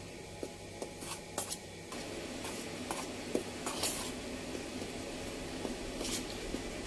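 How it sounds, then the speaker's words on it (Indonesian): A spoon stirs seasoning, flavoring and ground pepper into a tempeh mixture for geprek tempe. The stirring makes soft, repeated scrapes and light taps against the bowl, fairly faint over a steady background hiss. "Kita aduk-aduk biar merata."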